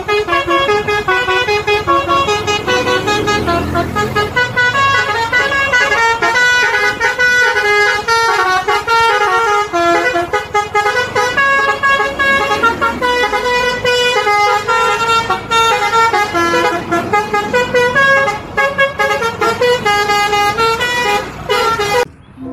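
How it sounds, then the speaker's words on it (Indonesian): A Subur Jaya bus sounds its loud, melodic horn, playing a bright multi-tone tune nonstop for over twenty seconds, close and dominant over faint road noise. "Wah, kali ini ada bus Subur Jaya teman-teman."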